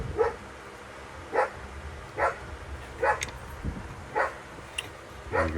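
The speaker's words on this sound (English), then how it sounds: "There goes the dog." A dog barks about seven times at a steady pace, moderately distant, in a garage during a 2015+ Subaru WRX manifold install, with faint workshop noise between barks.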